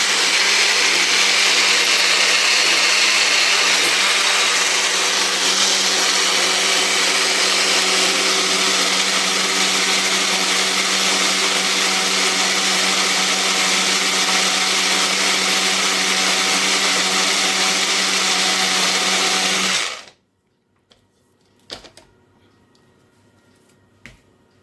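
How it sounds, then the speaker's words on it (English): A countertop blender whirs through rice and orange peel, a loud steady high-pitched grind lasting about twenty seconds before cutting off abruptly, leaving near silence with a couple of faint clicks. "it's not very smooth, so I have to blend it again"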